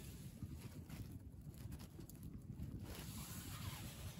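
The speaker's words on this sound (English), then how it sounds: "the wind's picking up a little bit" Wind gusts at night around a hot tent at a Scottish wild camp, a steady low rushing roar that swells and eases slightly, with no voices.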